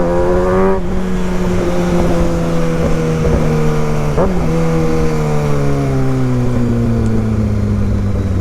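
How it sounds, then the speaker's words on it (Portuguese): A Kawasaki ZX6R motorcycle engine roars steadily and loudly up close, its pitch climbing briefly and then sinking gradually as the bike rides on. "o ronco da moto tá gostosinho"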